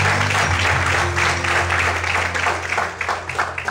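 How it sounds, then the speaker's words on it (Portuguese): A church congregation claps during an evening service, dense sustained applause with a low hum underneath, loud and fairly close, swelling slightly toward the end. "Vamos aplaudir o Senhor essa noite."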